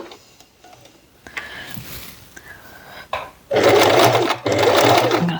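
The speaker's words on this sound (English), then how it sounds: "I'm going to start with a back stitch here" Scattered clicks and light handling noises come first, then a sewing machine starts stitching a tote bag seam, beginning with a backstitch, in two loud, close bursts separated by a short pause.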